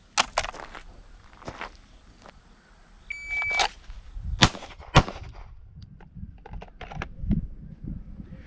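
Handgun shots fired on a law enforcement qualification range, sharp loud cracks in pairs with gaps between, alongside a timer beep and faint shuffling, close and without talk.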